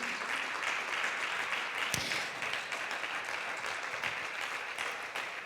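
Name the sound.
congregation applauding in church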